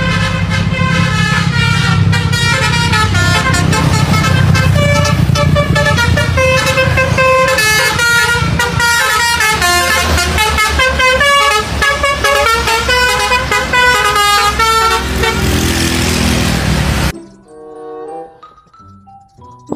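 A PO Haryanto intercity bus passes, sounding a loud, melodic multi-tone horn in a long, continuous musical sequence over engine and road noise. The sound stops abruptly and faint traffic follows.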